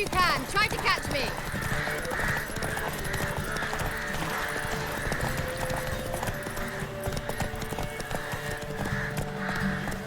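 Hooves gallop in a steady clip-clop rhythm as a horse runs in The Witcher 3, continuous and fairly close, with game ambience around it and a voice talking over parts of it.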